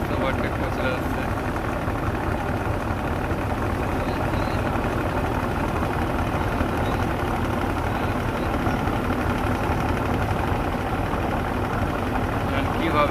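A large gas cargo ship's engine drones steadily on a river as it slowly overtakes another vessel, a continuous low rumble with water and wind noise throughout and no clear breaks.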